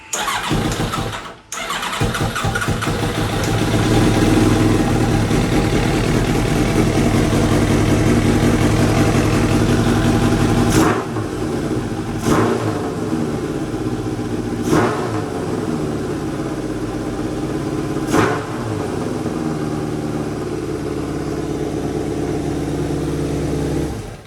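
A Kawasaki Ninja ZX7R motorcycle engine cranks and fires up loud and close, settling into a steady rumbling idle for over twenty seconds, punctuated by a few brief throttle blips.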